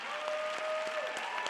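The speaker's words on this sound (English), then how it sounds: "Big round of applause." Applause from a conference audience at a wellness company event, a steady patter of clapping heard at a distance with a faint tone running through it.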